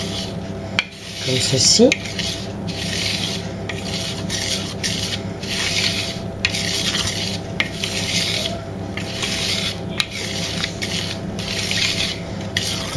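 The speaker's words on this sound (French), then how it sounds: "donc mélanger l'ensemble des poudres" Dry powders for a chocolate génoise sponge being mixed in a bowl, a steady scraping, rubbing stir that continues throughout, close and moderately loud, with a brief spoken phrase near the start.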